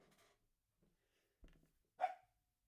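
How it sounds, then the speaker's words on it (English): A pet dog named Daisy lets out one short, sharp bark indoors, preceded by a few faint snuffs and muffled sounds. It is moderately close and stands alone with no talking. "Sorry about the dog in the background."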